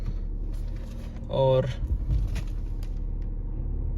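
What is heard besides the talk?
Maruti Suzuki Dzire engine idling after cold start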